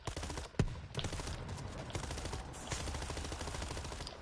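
Grenade launcher fire in the World War Z video game, a sharp boom near the start followed by dense, rattling gunfire and battle noise that continues steadily to the end.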